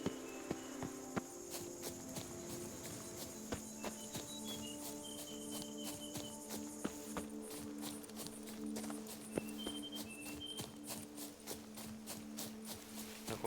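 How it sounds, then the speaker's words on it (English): Horses in The Witcher video game, their hoofbeats clip-clopping steadily across an open field amid a game soundscape of insects and crickets, with tonal game audio running underneath and no talk. "The horses are gonna run at me in this open field."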